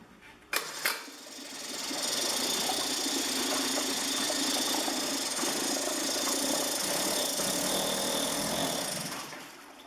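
A small Mercury 2.5 hp two-stroke outboard engine with a suspected carburetor problem sputters briefly, then settles into a loud, close, steady running drone with a rattly edge.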